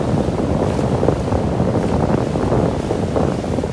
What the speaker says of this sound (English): love these waves